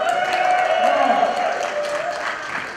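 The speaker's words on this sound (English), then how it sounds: "Audience, cheer him on." Convention audience at a fursuit games event cheering and applauding a costumed contestant, a steady wash of claps and voices with a sustained cheering tone throughout.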